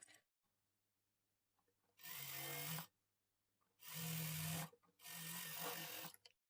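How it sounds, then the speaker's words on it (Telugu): A sewing machine stitches the belt of a lined blouse in three short motor bursts, each a second or less, with quiet gaps between them and no talking. "ఇప్పుడు ఇక్కడ నుంచి స్టార్ట్ చేసుకొని పావించి మార్జిన్తో స్టిచ్ చేసుకోవాలి"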